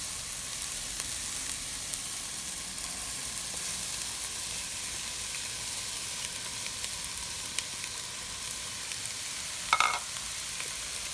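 Bell peppers and jalapenos sizzling with onions in a hot pan for a chicken pot pie, a steady close hiss across the whole stretch with a brief louder crackle near the end, no talk.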